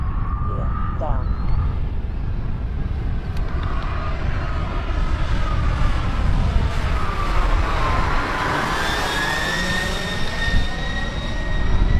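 A large radio-controlled Airbus A380 model airliner flies overhead with a loud, continuous jet-like roar, and its pitch sweeps as it passes close by while people talk in the background.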